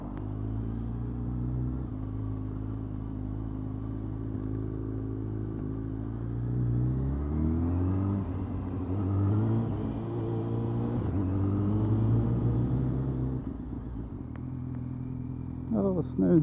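A motorcycle pulls out to overtake a queue of traffic on a commute, its engine a steady rumble that swells as it accelerates, heard from the rider's position while a voice talks over it.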